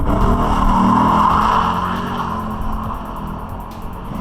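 A Lexus IS F engine roars up close while one rear tire squeals sharply in a one-wheel peel from its open differential under acceleration, then the sound eases into steadier engine noise.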